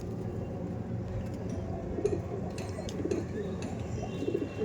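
Several pigeons kept in a sale loft coo in low, rolling phrases every second or so, close by, with faint chirps and background murmur underneath.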